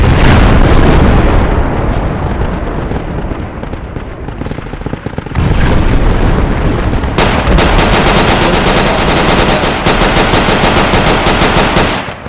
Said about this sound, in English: on the right machine gun